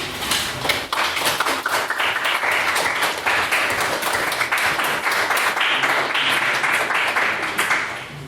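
Sustained audience applause follows a speech at a debate event, dense and steady clapping from a crowd filling the room for about eight seconds before fading slightly at the end.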